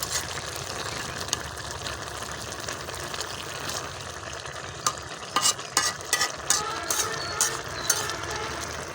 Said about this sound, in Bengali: এটা একটু নাড়ে দেখতেছি।